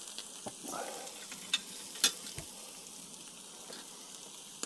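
Soft, steady sizzling of meat frying in a pan at a campsite in France, fairly quiet, with a few faint clicks and taps over it.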